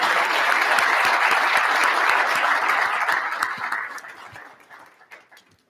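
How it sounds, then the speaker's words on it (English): A conference audience applauds panelists at an annual meeting, dense clapping from many people that holds steady, then thins and tapers off to a few scattered claps. "Again, a round of applause for these panelists"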